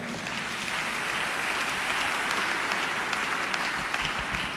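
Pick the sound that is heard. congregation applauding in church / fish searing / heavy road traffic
congregation applauding in church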